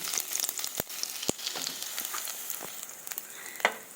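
Garlic frying in hot cooking oil in a pan, a close, steady crackling sizzle with a few sharp pops and faint stirring scrapes.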